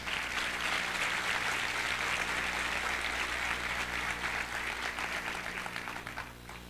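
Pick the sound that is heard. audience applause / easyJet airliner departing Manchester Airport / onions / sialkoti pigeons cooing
audience applause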